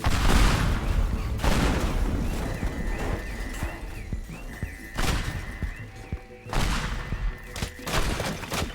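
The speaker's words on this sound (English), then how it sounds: "let's fire the missile again" Missile launches and blasts in the destruction game Teardown, with repeated loud booming explosions and rumbling debris separated by short quieter stretches.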